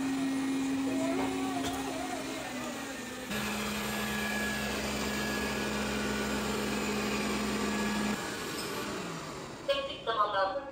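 A Xiaomi Vacuum Mop Pro 2 Plus robot vacuum runs across the floor with a steady, close motor drone and a tonal whine that shifts pitch partway through, while someone speaks quietly over it.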